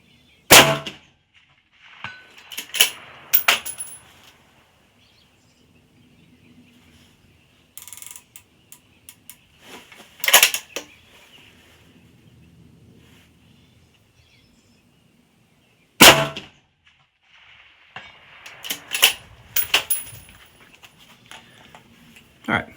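Rifle shots fired across a levee at steel targets set 400 and 500 yards out, heard as a few sharp, loud cracks spaced far apart, with faint metallic ringing and quiet stretches between them.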